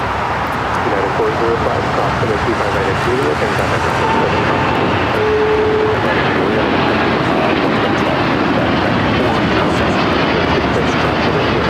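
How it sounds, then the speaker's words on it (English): A United Airlines Boeing 787-9 Dreamliner takes off at LAX, its engines roaring steadily and loudly close by throughout, with people talking underneath. "This is United Airlines Flight 32 taking off to Tokyo, Narita on the 787-9 Dreamliner"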